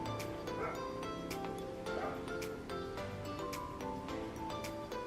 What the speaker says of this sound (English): this dog is going to be the death of me